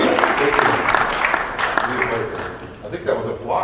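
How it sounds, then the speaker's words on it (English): An audience at a DFL congressional district candidates forum in Cloquet claps in sustained, moderately loud applause that fills the room, with voices mixed in. "I think that was applause."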